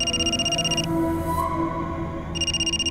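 An electronic phone ringtone plays in repeating pulses, stops briefly, then resumes, close and fairly loud over a low background hum.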